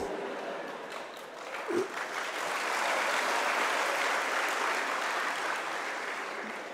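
A crowd at a Marathi motivational speech breaks into sustained applause, a broad, dense roar of clapping that builds slightly and holds steady throughout.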